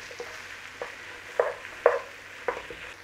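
Tomato paste sizzles gently over a moderate flame in a pan, with a few soft scraping stirs spaced through the quiet frying.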